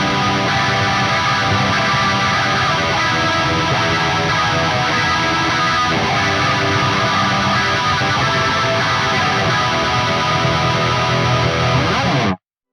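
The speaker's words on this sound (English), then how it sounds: "I'm going to disengage this and move on to the SLO100 chorus." An electric guitar runs through an SLO100 chorus effect on a Quad Cortex, playing a continuous, dense, distorted tone with shimmering modulation for about twelve seconds before cutting off abruptly.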